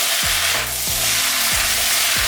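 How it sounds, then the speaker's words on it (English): Ginger stir-frying in a pan sizzles steadily and loudly, broken by four rhythmic scrapes and clacks of a utensil stirring through the pan. "Okay, so just keep stirring."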